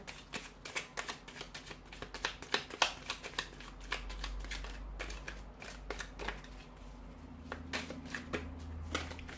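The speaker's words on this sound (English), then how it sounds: "we'll give the cards a shuffle" Tarot cards are shuffled repeatedly, with rapid riffling bursts and crisp flicks in an uneven rhythm, close and fairly quiet; one card flies out.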